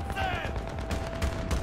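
Rapid bursts of gunfire from the Battlefield 3 video game crackle in a short, dense volley, heard at moderate level with faint voices in the background.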